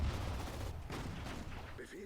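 Mortar blasts and gunfire rumble through a Sudden Strike 4 World War II battle, with low booms and crackling shots overlapping in a dense, fairly faint barrage while a voice talks over it.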